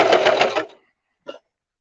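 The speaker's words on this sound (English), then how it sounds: "and then we're just going to sew." A sewing machine makes a short burst of stitches while sewing ruffles on a skirt, stopping after under a second, followed by a single brief click.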